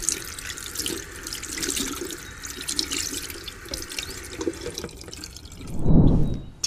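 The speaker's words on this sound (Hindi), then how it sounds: "अब मैं जल्दी से हाथ धो के आती हूँ" Hands washed under a running tap at a sink, a steady close stream of water splashing with clattering drips, swelling into a louder gush near the end; no one speaks.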